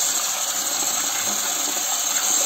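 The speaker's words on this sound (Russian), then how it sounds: "Третий раз мы заливаем водой" Water gushing from a tap into a cooking pot to rinse its contents, a steady loud hiss of running water throughout, close by, with no talking.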